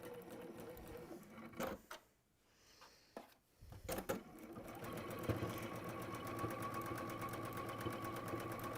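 Sewing machine stitching through layers of textile fabric, starting and stopping with a couple of clunks before settling into a steady, fast, close mechanical whirr.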